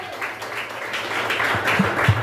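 A church congregation claps in praise during a service, brief, fairly close clapping mixed with murmured voices and a low hum.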